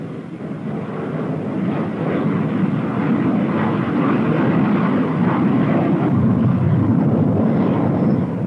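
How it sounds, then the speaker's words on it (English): Loud, continuous jet and aircraft engine roar as fighter and bomber jets launch from a Navy attack carrier, a heavy sustained rumble that builds slightly and holds steady with no talk. "During the launch of the attack carrier's mix of fighters and bombers"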